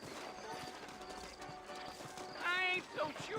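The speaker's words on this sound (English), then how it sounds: "You ain't gonna find sturdier horses than these in all of New Orleans." Horses' hooves clip-clopping in a Western video game set in New Orleans, a steady muffled hoof rhythm under game dialogue, with a short whinny-like tone near the end.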